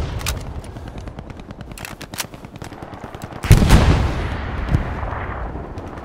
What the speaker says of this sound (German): Ich glaube, das ist ein Panzer, der auf mich geschossen hat.